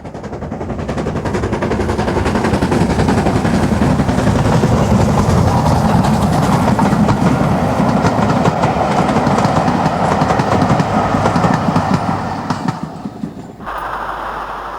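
An LMS Stanier Black 5 steam locomotive hauling a train with a Caledonian observation car at the rear passes on the West Highland line, a loud, sustained rumble of rapid rhythmic wheel beats that swells, holds, then cuts off abruptly near the end.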